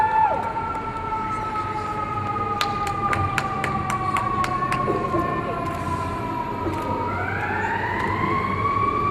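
An emergency siren wails steadily at the outdoor 2011 Emory University School of Law commencement, holding a continuous rising and falling tone throughout while a voice speaks over it.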